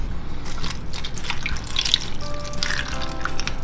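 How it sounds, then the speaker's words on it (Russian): Water poured into a foil-lined pan holding chicken leg rolls before baking, a steady close trickling and splashing with small drips and rising tones as the liquid fills, no talk. "Добавим теперь воды."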